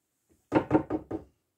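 Four loud, evenly spaced knocks bang on a front door, close and sharp, with a faint tap just before and silence around them.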